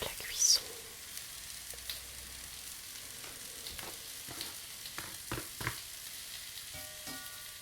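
Rabbit in beer sauce sizzling quietly in a cast-iron pot, a soft steady hiss broken by a few light taps and clicks against the pot.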